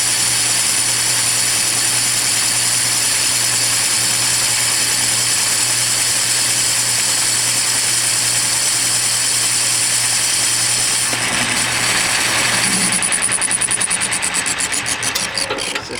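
A machine cutter working a steam engine piston runs as a steady, loud tool whir with an even hum, growing harsher and more ragged over the last few seconds, with no talk.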